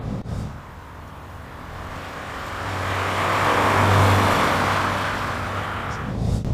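An Alfa Romeo Giulia 105 drives along with a steady engine hum and road noise that swells to a louder midpoint, then eases slightly, heard from inside the car.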